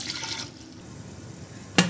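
Roughly half a glass of water splashes briefly into cooking keema, a short liquid pour at the start followed by quiet and a sharp clink of utensil near the end, with no voices.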